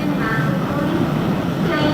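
A 1953 passenger train, the 917 to Sheffield, pulls out of York station with a steady rumbling rail roar, close and continuous, with a voice talking over it.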